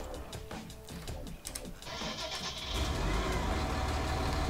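A yellow farm tractor's engine cranks with uneven rattling turns, then catches and settles into a steady, loud running rumble, nearby and without talk.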